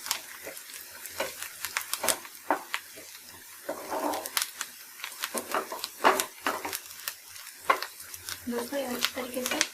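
Pizza sizzles in a kadai while a utensil scrapes and stirs in quick, irregular strokes, close by with clinks against the metal.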